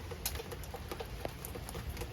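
Light rain pattering on a surface nearby, scattered drops tapping irregularly over a steady soft hiss.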